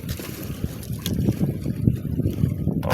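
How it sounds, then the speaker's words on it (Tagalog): Strong wind buffeting the microphone on a fishing dike in Malabon, a continuous low roaring rush with gusts swelling and easing, close and loud. "Lakas ang hangin dito."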